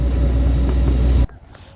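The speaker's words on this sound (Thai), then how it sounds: "รถไถกลับมาดึงแล้ว" A tractor engine pulls a stuck vehicle through a muddy waterway, a loud close low rumble droning steadily before cutting off abruptly, leaving quieter background noise.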